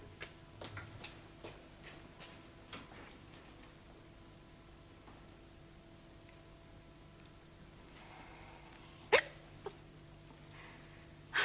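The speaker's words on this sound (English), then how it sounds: "To get rid of it, my hiccups." Hiccups from a person in a quiet indoor room come as a few short, sharp clicks spread irregularly over the stretch, faint against a low steady background hum with no talk.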